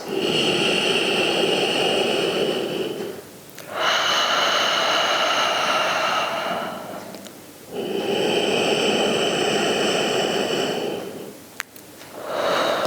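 Slow, deep breaths during a floor exercise, lying with knees up and a hand resting on the upper rib cage: three long, loud airy breaths roughly four seconds each, close to the microphone, with no talking.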